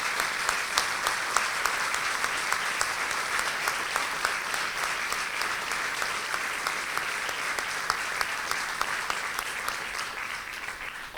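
Sustained applause from a seminar audience at a provincial intercultural event, dense steady clapping with no pauses throughout.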